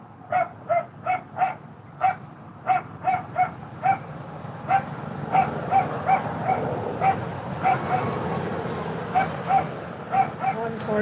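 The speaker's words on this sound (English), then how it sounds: "the barking one right now, I think it's the boy" A male dog barks repeatedly indoors, a string of sharp, high yips and woofs in irregular bursts, fairly close and loud against a low background hum, with some whimpering in between.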